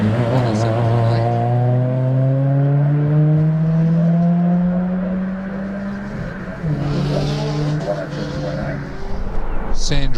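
A Subaru WRX powers up a hillclimb course, its engine rising through several gear pulls with brief drops between shifts, heard loud and fairly close with crowd and event ambience around it.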